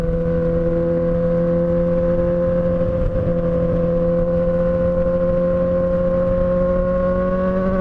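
VW Voyage engine holding a steady, loud drone with stacked harmonic tones that rise gradually as the car accelerates gently, continuous throughout with no voices.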